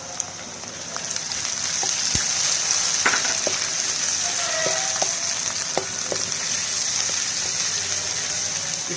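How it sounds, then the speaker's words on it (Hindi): Tomatoes and ginger fry in a pan with garlic and onion, giving a steady, close sizzle with scattered small pops and occasional clicks of stirring. "इसको अच्छी तरह भून लेंगे"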